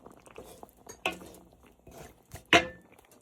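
A spoon clinks and scrapes against a pot while adobo with chili is mixed, a few sharp metallic knocks among soft stirring sounds, close and fairly quiet.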